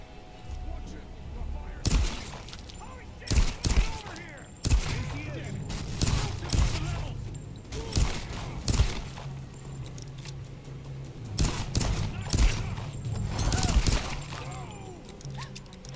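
Gunfire in the video game Tomb Raider 2013: repeated sharp shots in scattered bursts, some in quick clusters, with a player talking over the action.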